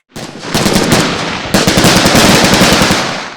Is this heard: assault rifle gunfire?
yes